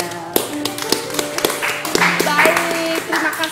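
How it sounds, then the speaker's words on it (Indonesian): An audience at a Bali Now cultural event breaks into scattered applause, with claps ringing out amid musical tones and background chatter. "Oke, boleh tepuk tangannya."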